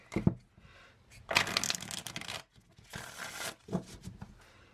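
Tarot cards riffle and slap together in several quick bursts, a soft papery shuffling repeated three or four times, close up.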